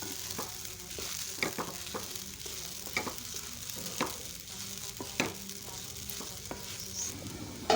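Vegetables seasoned with salt are stir-fried in a pan, with a soft sizzle under repeated sharp spatula scrapes and taps in an uneven rhythm, close and fairly quiet.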